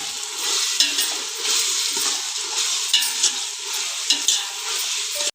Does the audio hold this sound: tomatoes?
yes